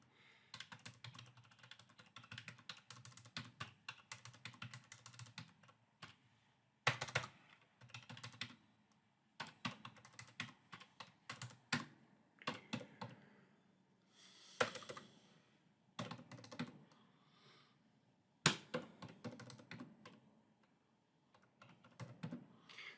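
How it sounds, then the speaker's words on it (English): Rapid typing on a computer keyboard, loud and close, in dense bursts of clicking keystrokes separated by short pauses, with no voice over it. "Hopefully you can write as fast as I can type"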